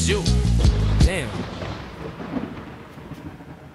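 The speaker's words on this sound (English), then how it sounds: "And I love how the thunder hits there." A thunder crack and rumble in a song lands as the music drops out, a loud boom right after a brief vocal phrase, then a long rolling decay fading into quiet.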